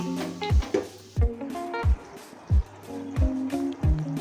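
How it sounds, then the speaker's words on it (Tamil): Water poured a little at a time into a pot of chicken cooking for biryani, trickling and splashing in short bursts roughly every half second against a background of clinking and kitchen noise, close by and with no talking. "தண்ணி கொஞ்சமாக விட்டு நல்லா கறியை வேக வைக்கலாம்"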